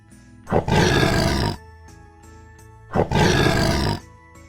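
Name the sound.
tiger roaring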